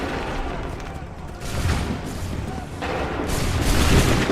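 Soldiers fire musket volleys in the Assassin's Creed 3 video game. Two or three booming crackling bursts rise over a steady background din of battle.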